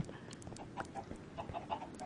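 Chicken clucking in short, repeated bursts, fairly close and moderately loud against a soft background hiss.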